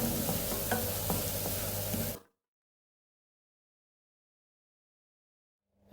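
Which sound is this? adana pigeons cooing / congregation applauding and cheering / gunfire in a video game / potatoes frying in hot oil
potatoes frying in hot oil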